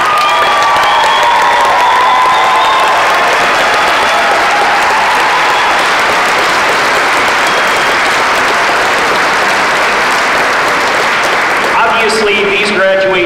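Audience at the 2022 Frank Church graduation ceremony breaks into loud, sustained applause with scattered cheers and whoops for school staff, a dense wash of clapping filling the room before trailing off near the end.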